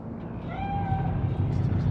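Cat meowing once in a Cyberpunk 2077 game scene, a single drawn-out meow over a low ambient hum, with a voice speaking faintly.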